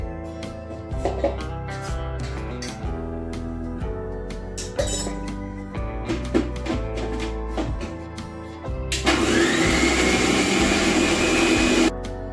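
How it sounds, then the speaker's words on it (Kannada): A few clinks and light taps, then a loud electric mixer grinder blending boiled spinach whirs steadily for several seconds before cutting off abruptly. "ಪಾಲಕ ಸೊಪ್ಪು ಬೇಯಿಸಿದ್ದೆ ಪೂರ ತಣ್ಣಗಾಗಿದೆ ಈಗ ಮಿಕ್ಸಿಗೆ ಹಾಕುತ್ತೇನೆ"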